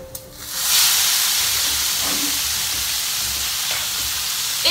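Pasta tipped straight into a hot pan with lardons for carbonara, bursting into a loud, steady sizzle and hiss that swells after a brief quiet start and holds strong throughout.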